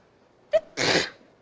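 A single sneeze from someone with a cold: a short sharp inhale followed by a breathy burst, close and clear in a quiet room.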